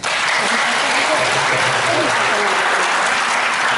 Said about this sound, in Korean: 감사와 경례의 박수 한번 부탁드립니다